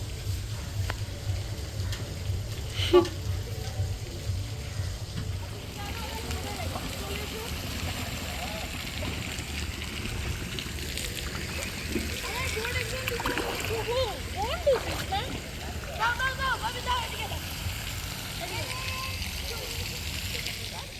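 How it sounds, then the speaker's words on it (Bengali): People splash and bathe in a resort swimming pool at Shantiniketan, with ongoing water sloshing and scattered splashes at mid distance, mostly quiet, under a steady hum and occasional voices. "সুইমিং পুলে স্নান করতে এসে এতটা স্নান করেছে আমার"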